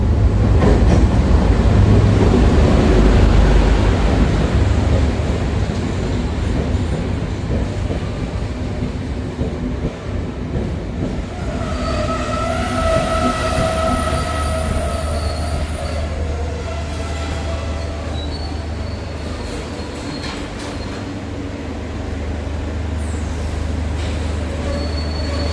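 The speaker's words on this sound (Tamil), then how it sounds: "ரயில் வந்து கொண்டிருக்கு." A train passes near a small new bridge in Nelliyadi, Jaffna, its wheels squealing in long high tones over a heavy continuous rumble, loud and close throughout.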